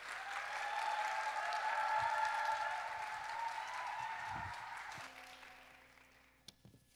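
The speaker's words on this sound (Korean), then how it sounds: "우리 좀 박수로 모십시다." Church congregation at a youth worship service applauds to welcome a speaker, a full, steady clapping that slowly thins and fades out toward the end, with a few faint thumps and murmurs underneath.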